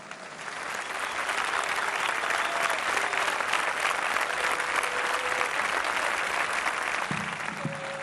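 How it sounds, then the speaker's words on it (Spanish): Dense, sustained crowd applause at a political commemoration marking 40 years of democracy, honoring those who fought for peace and freedom; steady, full clapping fills the whole stretch after a brief swell at the start. "un aplauso para todos."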